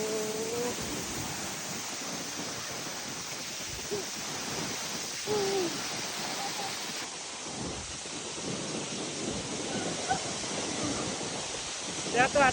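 Tiu Kelep waterfall in Senaru, Lombok roars with a dense, constant rush of falling water close by, with faint voices in the background.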